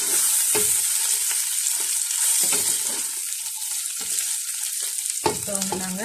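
Onions, green chillies and curry leaves fry with a steady sizzle in a pan for Sri Lankan-style mutton curry, while a spoon stirs and scrapes in repeated bursts, up close and with no talking.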